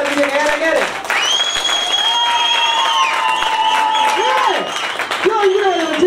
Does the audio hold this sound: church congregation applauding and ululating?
yes